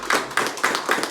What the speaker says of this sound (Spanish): Quiero que le demos un fuerte aplauso al Señor porque ese es un gran testimonio.